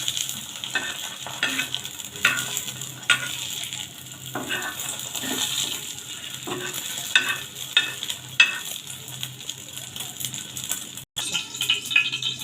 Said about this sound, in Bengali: সব ডিমগুলো ফ্রাই করে নেব